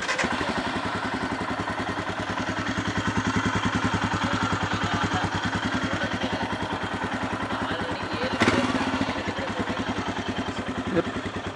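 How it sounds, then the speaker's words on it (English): A KTM RC390 motorcycle idles steadily with a dense, rapid exhaust pulse, staying close and loud throughout, with a brief sharper blip near the end. "let's check out the exhaust note"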